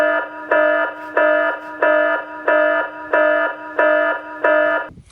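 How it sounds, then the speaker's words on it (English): An internal theft alarm sounds a loud, regular electronic beeping, about nine evenly spaced tonal bursts of roughly half a second each, close and alone, cutting off at the end. "another internal alarm."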